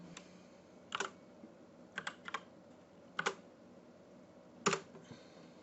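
Soft, fairly quiet clicks of a computer keyboard as a one-time password is typed, coming in short irregular clusters of keystrokes with pauses between them.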